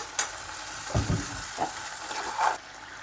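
Chicken meat for a roast fries in a pan with a steady close sizzle, broken by a few soft stirring scrapes and bubbling pops, with no talking.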